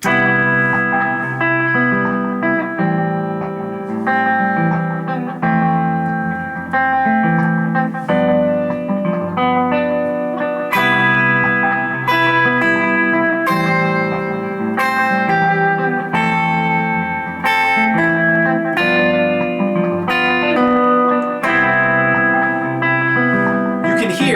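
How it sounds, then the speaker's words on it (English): Distorted electric guitar plays a repeating chord loop while lead notes ring out on top, drenched in echo and reverb, steady and loud throughout. "I've programmed a loop with those 3 chords, or those 4 chords"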